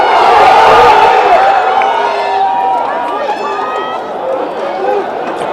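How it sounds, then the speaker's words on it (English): A crowd roars and cheers at a school rugby match between Van der Stel and Helderberg, loud and sustained with shouts and whoops rising over a dense mass of voices, easing slightly toward the end. "Every roar from the crowd urging on the hosts"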